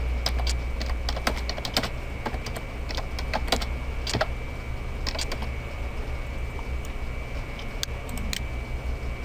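Computer keyboard set to play typewriter key sounds: steady, irregular tapping of individual keystrokes, close and fairly quiet over a constant background hum, with no voices.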